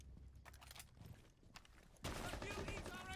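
Gunfire in Rainbow Six Siege during a collegiate esports playoff match, scattered shots and movement in the first two seconds, then a loud burst of sustained fire with ringing tails filling the rest.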